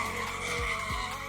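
A Nissan C33 drift car sliding through a qualifying run at a drift event, tires squealing hard under a loud engine roar, with two quick pitch swoops as the car transitions.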